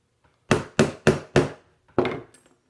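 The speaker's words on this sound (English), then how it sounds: "when you do your riveting operation, your rivets suck down nice and tight" Hammer blows riveting steel armor pauldron plates, four sharp ringing metallic strikes in an even rhythm, then a pause and a fifth heavier blow, loud and close with no talking.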